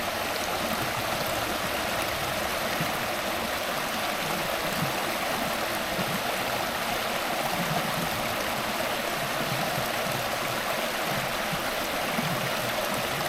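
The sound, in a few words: river water running over stones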